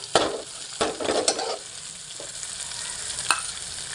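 Ginger, chillies and curry leaves hit hot oil for ragda patties, giving a low steady sizzle punctuated by a few sharp spoon knocks and scrapes against the pan near the start and once more toward the end.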